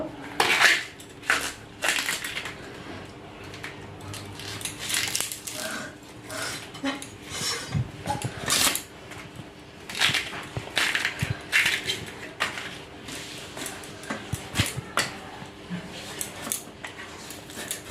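The inner part of a young bamboo shoot is pried out in a hill village kitchen. Irregular close cracks, snaps and crunches are mixed with clattering knocks, some sharp and loud, others softer.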